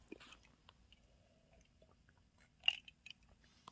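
Close, quiet chewing of food while eating, with a few soft wet bites and squishes in short bursts, loudest near the end, and no talk.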